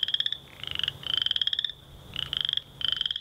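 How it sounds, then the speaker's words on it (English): Male chorus frog calling, in repeated bursts of rapid, rising trills like a fingernail run along comb teeth, several calls in close succession, loud and near against quiet background. "the call of the male chorus frog sounds a bit like when you ripple the teeth of a comb"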